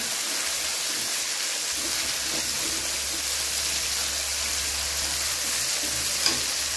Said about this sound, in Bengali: টমেটো ভাজা হয়ে গেছে, এরপর বেটে রাখা জিরে বাটা দিয়ে দিচ্ছি